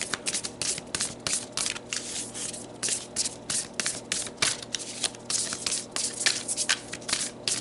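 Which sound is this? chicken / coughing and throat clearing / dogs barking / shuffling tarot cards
shuffling tarot cards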